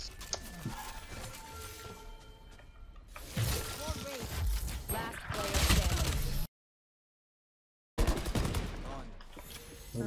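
Rapid gunfire from a Valorant match crackles in dense bursts and rattling volleys while players talk excitedly over it; the sound cuts out completely for over a second before the shooting resumes.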